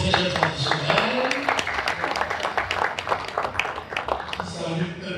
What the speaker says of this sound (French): merci d'applaudir pour ces chefs traditionnels